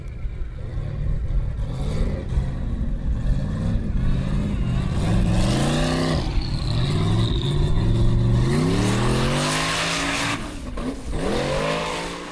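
A Thunderbolt formula offroad car revving hard on a competition course in Akureyri, Iceland, its engine loud and near, surging up and down in repeated sharp climbs with some clatter.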